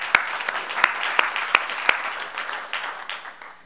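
Conference audience applause at DrupalCon Baltimore 2017: steady, dense clapping from a crowd, with several sharper claps standing out near the start, carrying on evenly for a few seconds with no one speaking.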